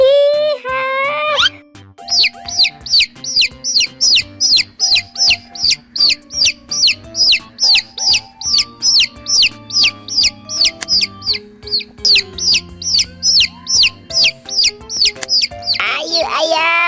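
Colorful rainbow chickens cluck and peep in rapid, rhythmic bursts. The calls repeat close and loud over a tonal, music-like background.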